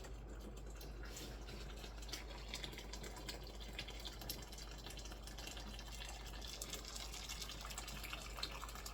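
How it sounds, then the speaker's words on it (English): Boiling water from a tea kettle pours steadily into a pot during home canning of red chile, a continuous faint gushing splash with no talking. "So then now I have boiling water in my tea kettle."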